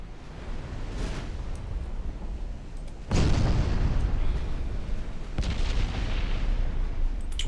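Battleship main guns booming in the naval game Ultimate Admiral Dreadnoughts, heavy rumbling blasts at a steady distance with two sharper thumps standing out, over a continuous low roar.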